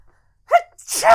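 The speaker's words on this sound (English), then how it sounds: "I have to sneeze." A sharp intake of breath followed by a forceful, close sneeze, loud and brief.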